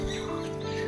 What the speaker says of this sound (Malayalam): കുറേ കോഴികളുണ്ട്